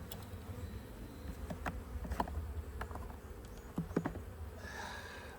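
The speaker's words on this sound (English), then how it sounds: "There's one, girls. One frame." Honey bees buzzing faintly around an open hive during a spring inspection, a soft drone with a few brief closer buzzes and light handling knocks.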